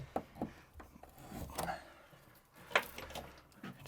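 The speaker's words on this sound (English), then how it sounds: "Just try to grab a corner of it and pull those staples out." Staples pried and pulled out with regular snips during a bathroom remodel, giving a few scattered faint scrapes and clicks with one sharper snap near the end, close up and quiet.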